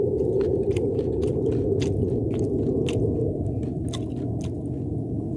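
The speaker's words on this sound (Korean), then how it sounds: "만두 한번 먹어보도록 하겠습니다." Close, wet chewing of a dumpling with soft rhythmic bites and squishes, heard outdoors in the cold beside a campfire over a steady low background rumble.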